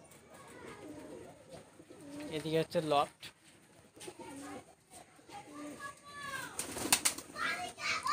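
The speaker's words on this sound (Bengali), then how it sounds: "এদিকে পায়রা চলছে বিল্ডিংয়ের ওপরতে" Pigeons coo repeatedly on a building rooftop loft, with soft throaty calls close by and occasional wing flutters, while someone talks over them.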